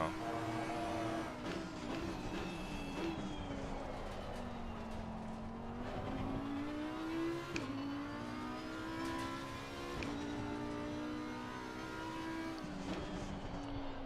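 A race car laps the Kyalami circuit carrying 73 liters of fuel, its engine droning and shifting pitch steadily through gear changes, heard from onboard with no voices.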